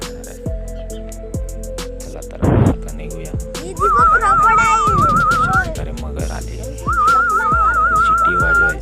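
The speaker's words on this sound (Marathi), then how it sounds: "शिट्टीचा आवाज केल्याने अशा प्रकारे मगर येतात" A person whistles to call crocodiles at a river in Konkan, in long warbling, wavering tones, two separate phrases, with a thud and some background activity between them.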